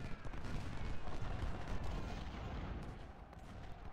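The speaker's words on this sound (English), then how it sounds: "These cannons shooting over here." Cannon and artillery fire from the Ultimate General: Civil War video game, a dense continuous barrage of booming shots at close range with no break for the whole stretch.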